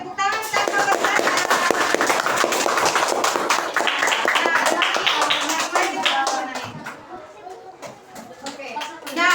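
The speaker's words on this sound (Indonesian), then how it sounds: "Oke, tepuk tangan untuk Skapar Zana." A classroom of children claps for a classmate after a drawing presentation, with loud, dense, fast applause that fades and then stops as young voices chatter around it.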